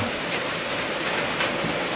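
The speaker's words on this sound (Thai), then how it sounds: "ฝนตกครับ" Rain falling steadily in a dense, even wash of noise that stays constant and fairly close, with no voices.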